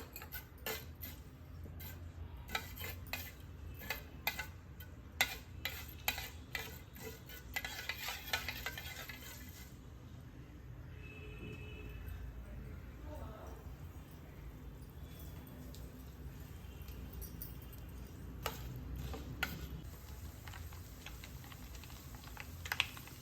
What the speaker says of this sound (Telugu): చూసారా చట్పట్లాడుతున్నాయి కదా